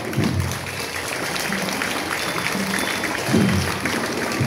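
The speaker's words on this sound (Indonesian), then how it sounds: "kita beri aplaus dulu untuk peserta upacara pada pagi hari ini" Applause from a crowd at a school ceremony held by a sixth-grade class, a steady wash of clapping throughout with slight swells near the start and toward the end.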